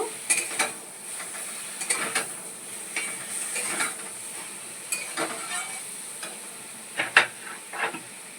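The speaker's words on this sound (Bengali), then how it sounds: "দেখো পনিরগুলো দিয়ে নাড়িয়ে চাড়িয়ে নিয়েছি" Paneer pieces stirred in a pan for butter paneer, with soft frying sizzle under intermittent scrapes and knocks of the spoon against the pan, close and fairly quiet.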